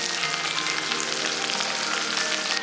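Enoki mushrooms hit a hot pan with rendered pork belly fat, onion, scallion and garlic, making a loud, steady sizzle with faint stirring scrapes and no speech.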